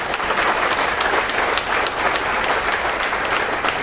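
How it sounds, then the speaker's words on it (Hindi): Loud, dense applause from a large crowd at a wellness training seminar in Mumbai, a steady unbroken wash of many hands clapping throughout. "जोर जोर तालियां मार दीजिए"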